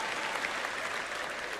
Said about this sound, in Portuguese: Só tem uma pessoa aplaudindo isso.